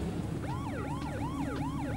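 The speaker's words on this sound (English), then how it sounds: "This police car is responding to a call with its lights on and siren blaring" Police car siren blaring as the car responds to a call, a steady wailing sweep rising and falling repeatedly over road noise, loud and close.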